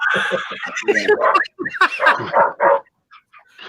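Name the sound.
dogs barking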